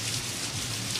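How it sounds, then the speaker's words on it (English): Rain falls indoors inside a store, a dense, even hiss of drops pattering on surfaces for a brief moment, with no voices. "It's raining inside the store."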